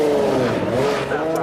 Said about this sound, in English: Listen to the engine, Rob.